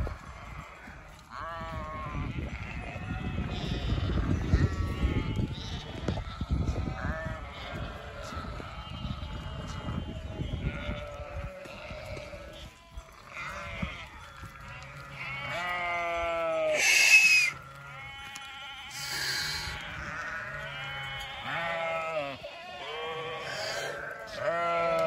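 A flock of sheep bleats repeatedly while being brought to water for the third time on a mountain grazing ground, many overlapping calls near and far, with someone talking over them early on.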